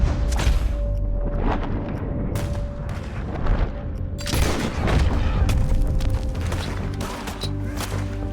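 Gunfire in the video game Red Dead Redemption 2: loud, repeated shots and booming blasts in rapid bursts over a dense, rumbling battle background.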